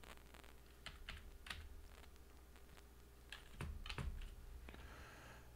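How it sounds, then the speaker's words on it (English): Someone typing a multi-factor authentication code on a computer keyboard, a few scattered, fairly quiet keystrokes with short pauses between them over a low steady background hum. "I'm going to type that in"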